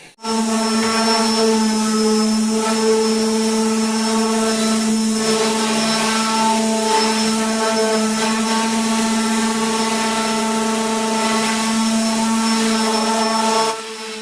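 A steady high-pitched sander whine runs loud and unbroken for the whole stretch as it sands epoxy, with no talking.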